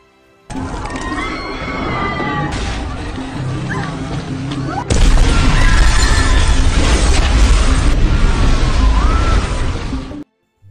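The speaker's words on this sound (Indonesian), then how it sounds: "di lobi terjadi sebuah ledakan lagi dari sudut lain" A loud explosion tears through a sinking ship in the 2006 film Poseidon, with booming, crashing roars that swell, surge louder midway and then drop off abruptly.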